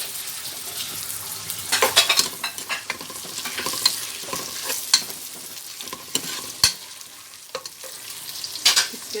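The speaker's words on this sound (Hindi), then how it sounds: "इसमें हम पेस्ट डाल देंगे अदरक लहसुन का।" Onions fried light brown with ginger-garlic paste sizzle steadily in a pan while a utensil stirs and scrapes with repeated clinks and scuffs, close and fairly loud, no talking.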